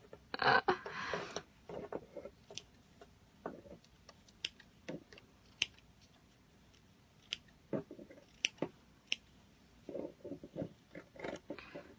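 Scissors snip through wet-felted wool in scattered, crisp little cuts, close up and fairly quiet, with irregular pauses between the clicks.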